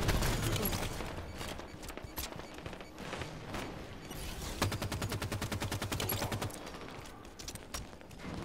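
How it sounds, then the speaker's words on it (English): Gunfire in a Halo 5 Warzone battle, dense bursts of shots and rapid fire repeating throughout over steady background battle noise, with no talking. "Someone's got a sniper rifle out there."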